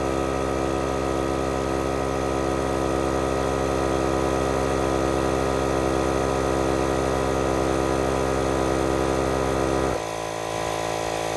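A Milwaukee M18 or M12 cordless inflator pumping, a loud steady close motorized drone that shifts pitch abruptly near the end as it cycles, with no voices.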